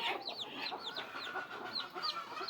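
Brooding hens with newly hatched chicks make soft repeated clucks and short calls on a free-range poultry farm, moderately close and continuous with no talk.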